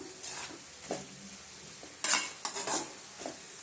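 A spoon scrapes and stirs a banana flower and drumstick leaf stir-fry in a pan, making a few separate clinks and rustles over a soft sizzle. No one speaks.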